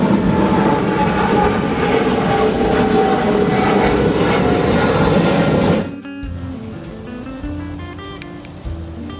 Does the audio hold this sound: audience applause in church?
no